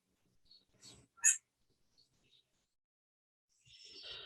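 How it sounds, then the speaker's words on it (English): A slow loris giving harsh, crow-like cawing calls: a few short bursts, then a longer rasping call after a quiet gap, all faint against near silence. "another unique call made by the slow loris, which we have called the crow call. That sounds just like a crow cawing"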